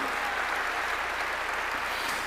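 A church congregation applauds during a sermon, giving a steady, even wash of clapping that holds at one level for the whole short stretch.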